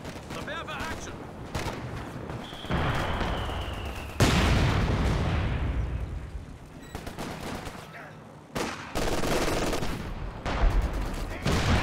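Howitzer artillery thunders in Company of Heroes 2 amid a busy battle, with a large sustained blast midway and a crackle of gunfire and explosions around it, a voice talking over parts.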